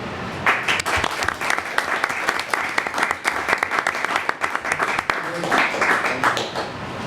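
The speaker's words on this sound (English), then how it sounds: "Corinne Clarity, we can clap for Chloe and Corinne." Hearty applause from attendees at a school committee meeting, continuous clapping throughout with a brief dip near the end before swelling again.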